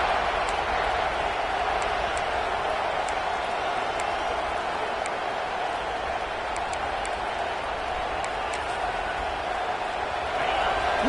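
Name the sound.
football stadium crowd cheering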